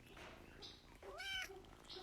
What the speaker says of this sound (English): And this is Jaren's little kitten.